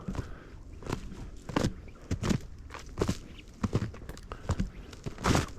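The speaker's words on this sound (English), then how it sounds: "As the ground crunches underneath my feet." Footsteps crunch over frozen ground at a botanical garden in January, a steady series of close, crisp steps with irregular spacing.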